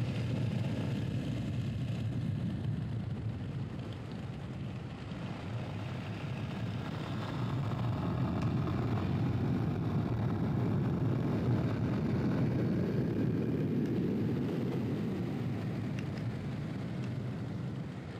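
A Yamaha XT 660 motorcycle engine is revved, a continuous low rumble that swells in the middle and holds fairly steady, heard from close by with no talking.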